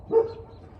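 A single short dog bark sounds at moderate distance, a quick muffled woof that fades into quiet room tone.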